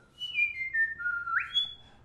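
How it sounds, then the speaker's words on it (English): A person whistles a slow, wavering melody, sliding between sustained notes in a few close, clear phrases with no talking. "can you whistle? How do you change notes when you whistle?"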